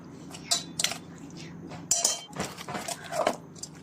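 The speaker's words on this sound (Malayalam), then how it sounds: "തയ്യാറാക്കി ബാറ്ററിലേക്ക് നമുക്ക് കോളിഫ്ലവർ ആഡ് ചെയ്ത് നന്നായി മിക്സ് ചെയ്തെടുക്കാം" A spoon stirs cauliflower into a thick batter in a bowl for gobi manchurian, making a few sharp metallic clinks and scrapes against the bowl, close and moderately loud, with no talking.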